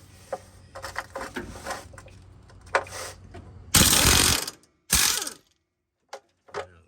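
A powered impact tool spins off the bottom rear shock nut on a 1983 Ford F-150, loud rattling bursts of about a second each, separated by quieter clicks and handling noises before falling silent.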